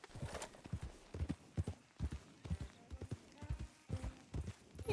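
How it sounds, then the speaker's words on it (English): Horse hooves clip-clop in steady repeated strikes in the open world of Red Dead Redemption II, close and fairly loud, with a brief whinny heard among the footfalls. "there's a horse"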